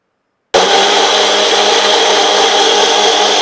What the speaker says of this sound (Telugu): కొంచెం వాటర్ వేసుకొని బ్లెండ్ చేసేసుకున్నాము